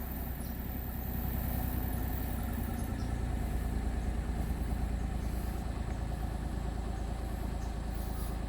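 A Perodua Viva engine idles steadily and close by, a continuous even drone with the air conditioning switched on and the revs sitting slightly raised.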